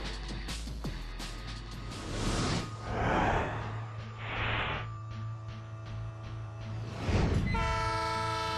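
A refurbished passenger locomotive sounds a loud, sustained horn with tonal blasts and a rumbling, clattering drone as cars roll by close at hand.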